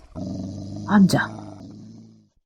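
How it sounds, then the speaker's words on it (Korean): A dog growls in a low, rumbling snarl as a sound effect within a Korean mystery audio drama, rising to a sharper peak midway before fading out. "벽난로 앞 러그 위에 편안하게 누워있던 아이린에게 드라이어드가 갑자기 귀를 쫑긋 세우더니 계속해서 으르렁거리기 시작했기에 골딩 씨의 말이 끊어졌다."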